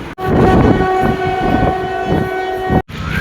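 A train crowded with passengers rumbles loudly nearby at Nagpur railway station while its horn blares in a long, steady tone over the clatter of the wheels.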